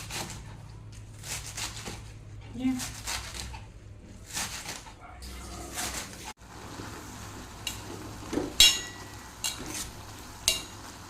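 Spring onion greens are stirred and fried into a palya in a pan. Soft sizzling runs under scraping spoon strokes and occasional clinks of utensil on metal, close and fairly quiet.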